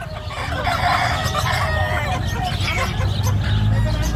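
Native chickens, including a large jumbo bird, cluck and crow at close range amid steady background chatter and a busy outdoor hubbub.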